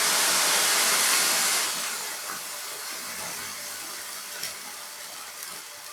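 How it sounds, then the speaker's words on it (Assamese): Warm water pours into a pot holding crushed ginger, raw turmeric and chilli for an Assamese fish curry, a bright rushing hiss that fades into a softer sizzling bubble, with no voices. "এয়া কুহুমীয়া পানী দিম মই জোখমতে।"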